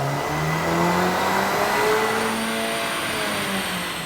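A Volkswagen Golf R MK8R with a 2-liter turbo engine and aftermarket exhaust revs hard on a dyno, its loud, close engine note sweeping steadily upward in pitch through the run with no voices.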